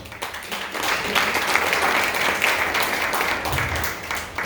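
A church congregation breaks into sustained applause, a dense wash of clapping hands that stays fairly loud and steady throughout, with a brief low rumble near the end.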